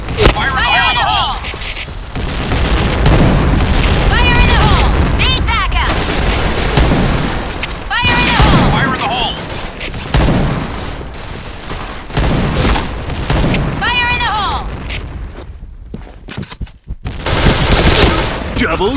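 Booming grenade blasts and bursts of gunfire fill a team-based shooter video game round, repeated and loud across the clip, with in-game voice callouts and a player talking over the action.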